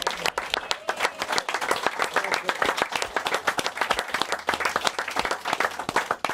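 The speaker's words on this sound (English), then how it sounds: "Give everybody a round of applause." Studio audience for a football chat show previewing an Aston Villa home match gives a round of applause, close, crisp individual claps forming a lively, uneven patter throughout.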